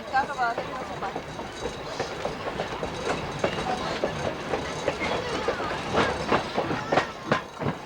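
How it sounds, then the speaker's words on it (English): Old-fashioned steam train rolling on rails at a Pennsylvania tourist railroad, with rhythmic clickety-clack of wagon wheels and occasional squeals, heard up close while people talk over it. "We're very happy to have you here with us this afternoon to enjoy old-fashioned steam railroading."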